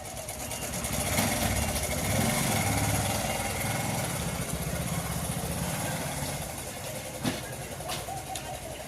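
A small engine idles steadily at moderate distance, a continuous low rumble with no talking.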